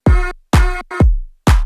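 Programmed kick drum and clap samples play four punchy hits in a short pattern, each booming low thump carrying a bright, sustained tonal tail, loud and isolated with no voices.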